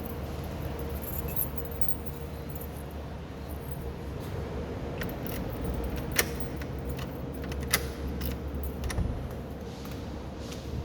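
Keys jangle and clink as they are pulled from a bag, with scattered metallic taps and rattles over a low background hum and no talking.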